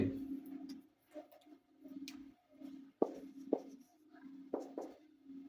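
A trigonometric derivative formula being written on a board during a maths lecture, with close, distinct scratchy strokes and taps in uneven bursts over a faint steady hum.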